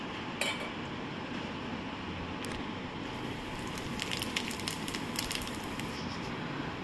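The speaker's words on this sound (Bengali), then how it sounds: "তেজপাতাটা একটু ভেজে নিচ্ছি" Two bay leaves fry in oil in a pan for an onion curry, a steady soft hiss with scattered clinks and scraping taps of a utensil, close and low in level.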